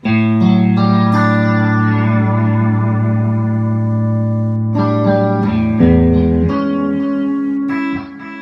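Electric guitar notes ring out through a Neunaber Immerse reverb and delay pedal, each chord trailing long echoing tails that wash into the next.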